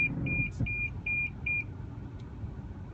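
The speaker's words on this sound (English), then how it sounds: "And it makes that lovely beeping sound" Proximity warning in a 2016 Toyota RAV4 gives five quick, evenly spaced high beeps over a low engine rumble inside the car, then falls silent.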